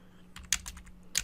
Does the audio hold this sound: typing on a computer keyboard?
yes